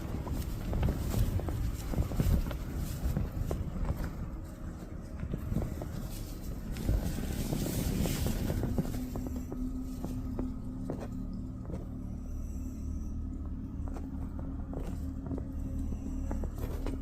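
Faint, irregular footsteps move around a tent at night, scattered soft steps half buried under constant gusting wind noise.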